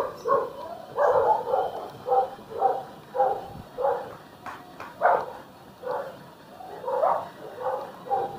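A dog barks in a steady rhythm, roughly one bark per second, fairly close, with fainter yips from other dogs.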